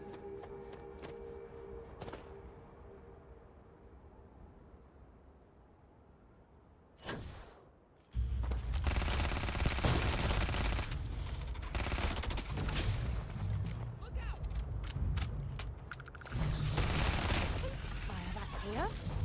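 Video-game gunfire: after a quiet, ambient stretch with a brief sharp sound, loud rapid bursts of shots erupt and continue for several seconds, close and intense, fading slightly before another heavy volley.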